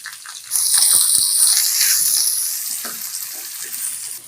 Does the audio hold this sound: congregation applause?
no